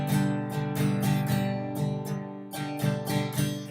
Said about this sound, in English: if you only strummed when you had to hit the strings, it would look like this and sound like this.